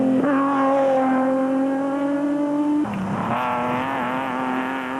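Ford Ranger rally trucks at the Mondi Gilboa 250 start of the main event, engines roaring loud and steady as they accelerate off the line side by side. The pitch shifts sharply partway through as the trucks pull away.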